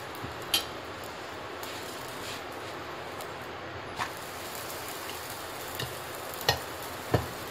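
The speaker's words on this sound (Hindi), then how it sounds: "बस इसको हम हल्का सा फ्राई करेंगे, हल्का सा ऑयल लगा देते हैं" Chapati frying lightly in a pan with a little oil, a soft continuous hiss with occasional faint crackles and pops, quiet and close with no talking.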